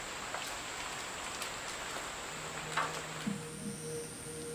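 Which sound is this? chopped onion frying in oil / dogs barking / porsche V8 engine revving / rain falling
rain falling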